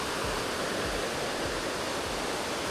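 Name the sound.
waterfall on a hiking trail in Trinidad and Tobago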